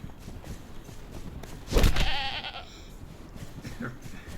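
A goat in the video game Conan Exiles bleats once, loud and wavering, over a steady background hum and rustle, with faint game ambience before and after.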